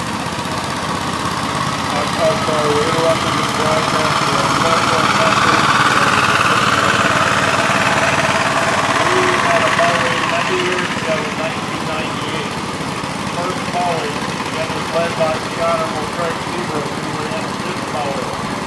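A Gravely mower engine runs steadily at a show, a continuous mid-distance drone that holds for the whole stretch while voices talk in the background.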